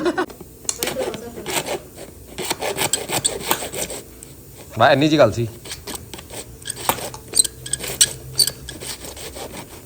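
Rough, rhythmic rasping strokes of a saw cutting through plastic pipe, repeating steadily up close, with someone speaking briefly in the middle.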